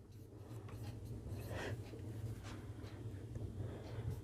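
Pen or chalk strokes scratch out a Class 10 coordinate geometry solution, soft continuous rubbing with brief sharper scrapes over a low background hum.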